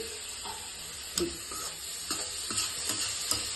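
Food being stirred and mixed in a pan, with scattered spoon scrapes and taps at irregular intervals over a faint, steady sizzle; no talking.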